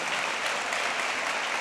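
A church congregation claps steadily and loudly during a worship service, a brief continuous wash of many hands with no voices rising above it.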